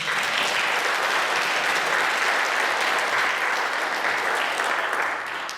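A church congregation at a Korean worship and testimony gathering gives sustained applause offered up to God after prayer, a thick, unbroken sheet of clapping held at steady volume before tapering slightly at the very end.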